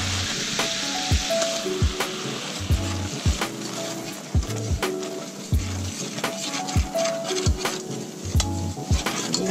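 Flour browns in a hot pan for a pot pie filling, giving a steady sizzle and frying hiss punctuated by regular knocks of a utensil stirring against the pan.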